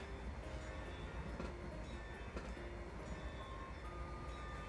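Steady rumble of a train in the video game Train Simulator, a continuous rolling hum with faint clicks and brief bursts, moderately loud and with no talk.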